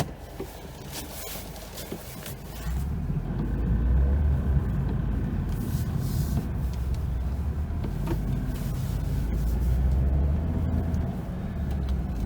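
A Smart Fortwo drives in snow and ice, its small engine rising to a steady low rumble under road and wind noise, with faint knocks and thumps from the car.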